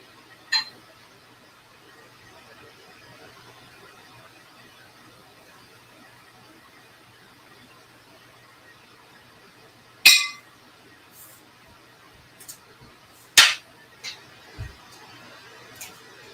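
A Dallas Cowboys shot glass clinks a few times at close range, sharp bright taps scattered over a few seconds of near-silent room tone after an earlier lone tap.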